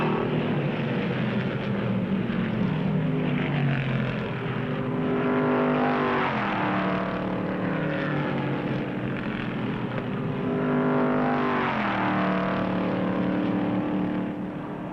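Stock cars race at the 1959 Daytona 500 at about 145 miles an hour with a continuous, dense engine roar. Louder pass-by surges swell and fade at intervals, with no talk over them.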